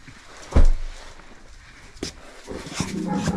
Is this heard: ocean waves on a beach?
no